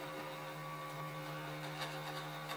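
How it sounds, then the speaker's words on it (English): A 3D-printed linear actuator driven by a stepper motor through a geared-down gearbox gives off a faint, steady whine with strong even tonal hum, running slowly and continuously with slight fluctuations. "it's a 3D printed linear actuator driven by a stepper motor and a"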